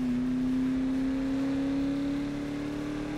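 Steady engine drone from a Ford car in the racing video game Need for Speed (2015), a sustained low hum that holds a nearly constant pitch throughout, moderately loud with no talking.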